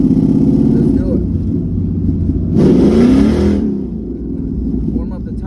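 A Ford Mustang S550 GT with a trans brake revs its engine to warm up the tires, a deep, loud rumble that swells into a brief harsher burst midway, then settles back to idle, with someone talking over it.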